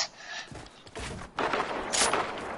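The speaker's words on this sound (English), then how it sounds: "I got a new toy. Dual pistols." Dual pistols fire in the Fortnite video game, with loud rapid bursts of shots and impacts in quick succession and no voices.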